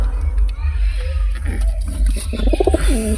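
Pigeons from the Beldanga market coo in short throaty bursts close by, rising near the end over a low rumbling background.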